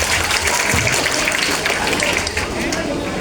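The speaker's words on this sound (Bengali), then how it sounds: "তাদের জন্য জোরে একটি করতালি" Audience applause at a school competition welcoming Haldia Government High School and Louhajang Pilot High School, dense sustained clapping from a crowd, loud and continuous, with voices mixed in.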